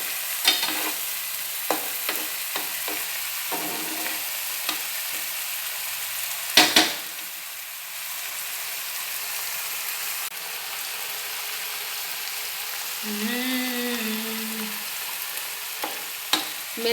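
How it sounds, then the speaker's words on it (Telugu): Tomato paste with garlic and ginger fries in a pan for masala egg fry, making a soft, steady sizzle with occasional light utensil clicks close by and no talking. "ఈ టమోటా పేస్ట్ బాగా వేగాలి,"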